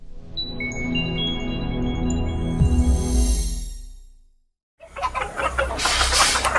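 Free-range farm chickens raised for eggs call out in long, drawn, crow-like cries, then break into a burst of nearby clucking and scratchy farmyard noise after a brief silence.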